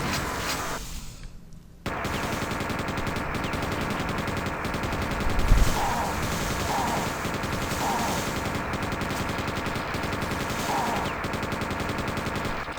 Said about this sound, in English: I really like using the super shotgun.